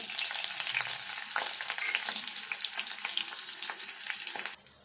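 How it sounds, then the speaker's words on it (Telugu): Onions sizzle in a hot tempering of cumin, mustard seeds, dried red chilli and garlic for a Telangana brinjal curry, a close, steady crackling fry with stirring scrapes, cutting off abruptly at the end. "ఈ తాలింపు ఇట్లా వేగినాక ఉల్లిపాయలు వేసుకోవాలి"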